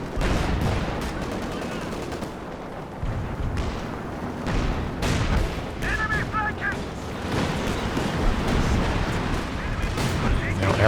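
Katyusha rocket artillery fires in a Company of Heroes 2 match on the Port of Hamburg map, a dense continuous rumble of launches and gunfire blasts mixed with battle noise, loud and busy under a commentator's voice.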